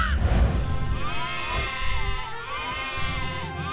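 Sheep in an animated dragon cartoon bleat several times in quick succession, close and fairly loud, with wavering cries overlapping a busy background of cartoon sound.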